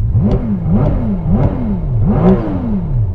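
A Ferrari 296 GTS engine in neutral is blipped four times in a row, each rev surging up and dropping back, loud and close.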